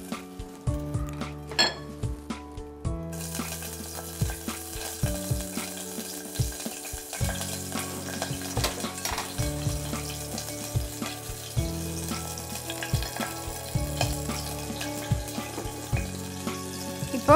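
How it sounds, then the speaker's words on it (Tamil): Green chillies dropped into hot oil sizzle steadily amid frequent clinks and scrapes of a pan and spoon, beneath continuous background music. "எண்ணெய் காஞ்சோடனே பச்சை மிளகாய் போடுறேன்."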